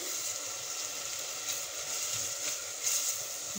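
Chopped onion and garlic frying in a little oil, a steady soft sizzle that hisses continuously at low volume, close up with faint bubbling flickers and no voices.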